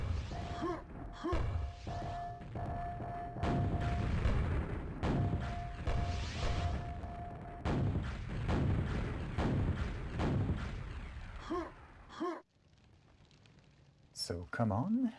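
Rocket explosions in a QuakeWorld duel, repeated booming blasts and thuds in irregular bursts beneath continuous commentary.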